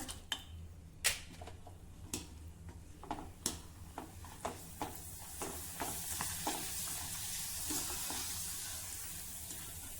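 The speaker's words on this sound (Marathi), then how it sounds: "बघा किती सुरेख हे तळले गेले।" Mirgund papad fry in hot oil with a soft, steady sizzle, marked by a series of sharp ticks and clinks from a utensil against the pan, close and fairly quiet.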